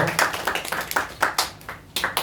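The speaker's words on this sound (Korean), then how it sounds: "다시 한 번 더 환영의 박수 주세요." At a Korean church service, a small congregation claps to welcome newcomers. About nine distinct claps land in a loose rhythmic pattern, close and moderately loud, with a brief pause near the middle.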